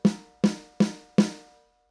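An unmuffled snare drum is struck four times at an even pace, each hit sharp and close with a bright ringing tail that decays before the next.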